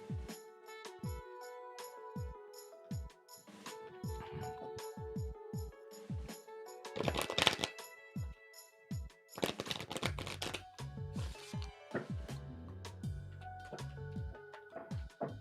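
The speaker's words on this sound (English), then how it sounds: "let's pull some cards for Libra. I want to give this a good shuffle." Tarot cards being shuffled by hand, a quiet series of soft riffling slaps and flicks in irregular bursts with brief pauses between them, close and alone without talk.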